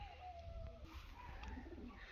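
Soft cooing of pigeons, low and murmuring, heard faintly in a quiet outdoor setting.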